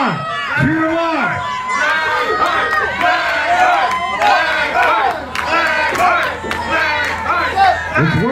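A crowd at a live wrestling match between Johnny Bay and James Blackheart roars and shouts encouragement in a dense, continuous wall of voices, with a few higher cries and whoops rising above the din.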